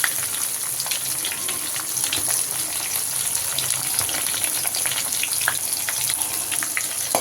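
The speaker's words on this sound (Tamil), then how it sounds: "இப்போ இது பூண்டு நல்லா ஃப்ரை ஆகணும்." Crushed garlic fries in hot oil with fennel seeds for a pea and potato masala, a constant close sizzle with faint crackles and no talking.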